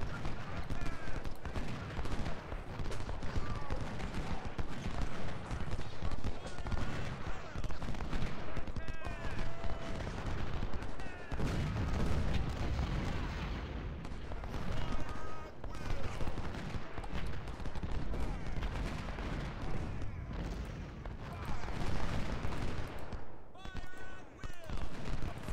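Artillery and rifle fire crackle through a Civil War battle in the Ultimate General Civil War game, with dense overlapping shots and booms running steadily for the whole stretch at a busy, constant loudness.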